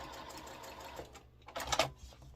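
A sewing machine stitches a quilt block in short bursts, a quiet whirring run followed by a louder burst of rapid mechanical chatter, close and alone.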